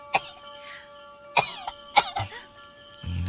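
A young child coughing indoors, several separate hacking coughs spread over a few seconds with a throat-clearing sound between them, close and fairly loud, with no talking.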